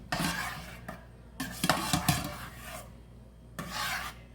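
A spoon scrapes and rasps through roasted tomato pizza sauce in a pan as basil is stirred in, coming in several short bursts with pauses between them, close up and without talk.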